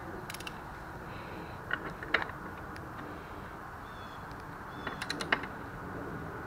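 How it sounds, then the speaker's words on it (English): Torque wrench ratcheting and clicking while tightening the rear axle nut on a 2003 Suzuki GSXR 1000 during chain adjustment, two short bursts of close metallic clicks over a steady background hum. "Not too tight, because you do have a torque wrench. Tighten it."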